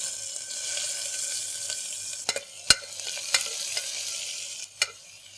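Onions added to cumin in hot oil, frying with a steady sizzle and several sharp spatula taps and scrapes against the pan, close and fairly loud, no speech.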